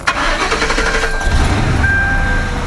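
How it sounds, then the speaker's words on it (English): Ford Crown Victoria with a Cobra engine build and an intake manifold runner control fault, starting up: a whirring starter crank that catches into a loud, rumbling idle close by, alone without talk. "So what we're going to do is, you know, start the car."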